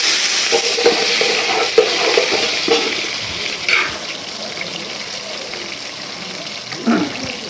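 Onions sizzle and crackle steadily in a hot pan, with occasional stirring clatters and soft bumps, close up and fairly loud.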